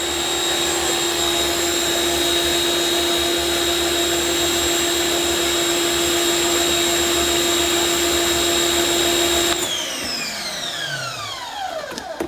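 Active 2.0 electric pressure washer running with a 4.0 nozzle, a loud steady motor whine with a high tonal hum that shuts off near the end and winds down with falling pitch.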